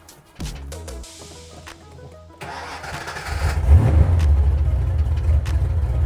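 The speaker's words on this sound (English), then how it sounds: "the first step in testing for any air leaks is to start the car and get it idling" A Foxbody Mustang engine cranks, catches and settles into a rough, loud idle, heard close up after a few clicks and quiet moments, with no voices.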